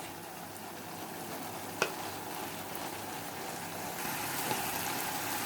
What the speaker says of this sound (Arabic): هنحط بقى الفلفل، ياخد مثلا تقليبتين كده لحد ما يدبل